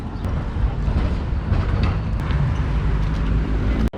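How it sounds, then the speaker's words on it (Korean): Busy indoor ambience at Zurich main train station: a constant low rumble and hum with distant clatter and faint crowd noise, ending in a sharp click. "여기가 취리히 중앙역"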